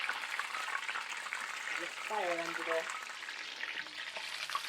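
Battered zucchini spring rolls frying in a pan of oil, a steady dense sizzle throughout, with a brief tonal whine partway through.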